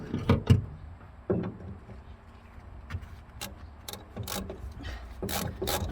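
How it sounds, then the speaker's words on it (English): A ratchet turns a coilover bolt during a suspension install on a Mazda MX-5 NB roadster, giving short bursts of rapid clicking strokes with pauses in between, close and clear, with no talking. "maybe a little less range on the ratchet for this front one here as well"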